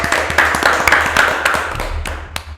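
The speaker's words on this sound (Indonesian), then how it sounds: "Keren banget guys, tepuk tangan dulu dong." A few people clap their hands on a podcast set, with crisp, fairly close, irregular claps over a low background hum for a couple of seconds.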